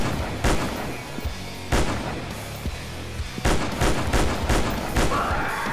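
Heavy gunfire in a video game dinosaur hunt in Africa: several loud, sharp shots spaced a second or so apart, some in quick pairs, with brief rumbling tails between them.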